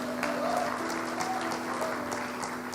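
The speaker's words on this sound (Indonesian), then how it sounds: "Tepuk tangan dulu dong" An audience at an Indonesian talk event claps steadily in a dense, continuous patter of applause throughout, with a low steady hum underneath.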